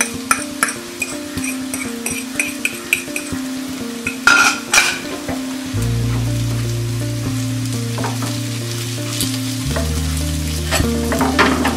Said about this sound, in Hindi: अब हम इसमें डालेंगे अंडे। अंडों को हम जस्ट मिक्स करके गैस बंद कर देंगे।